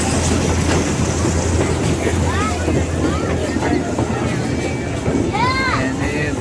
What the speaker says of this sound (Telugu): మళ్ళా ట్రైన్ పోతుందిరా అయ్యా.